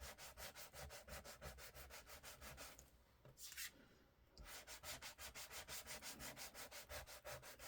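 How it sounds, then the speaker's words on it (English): A small sanding block scuffing the shine off playing cards, close rhythmic back-and-forth strokes in quick regular succession, pausing briefly midway before resuming, with no voices. "I'm going to sand some of the shine off of these."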